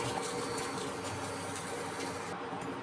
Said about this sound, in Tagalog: Medyo maingay lang itong induction kasi yung dahil sa kanyang blower.